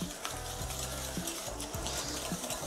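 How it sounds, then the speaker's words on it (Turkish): Eggs and sugar whisked by hand with a traditional whisk in a bowl for an apple cinnamon cake, quick rhythmic scraping strokes close up with no talking. "Şekerle yumurtayı çırpıyorum arkadaşlar."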